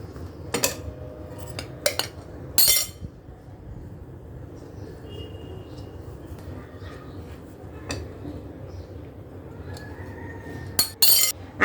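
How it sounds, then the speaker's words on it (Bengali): Cake batter being stirred in a bowl, with sharp clinks and scrapes of a utensil against the bowl at scattered moments over a quieter, soft mixing background, close by. "এক সাইড থেকে ঘোরাচ্ছি মেশাচ্ছি"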